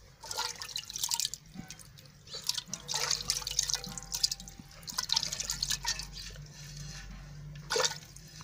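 Raw meat is washed by hand in a village, with irregular splashing, dripping and running water, plus soft clattering handling sounds in between. No talk is heard.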